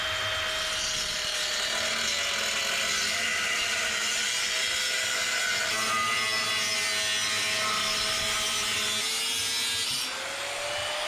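A power tool cuts through metal stove pipe for a soapstone stove, giving a loud, continuous high whine and grinding rasp for about ten seconds before stopping abruptly; no talking.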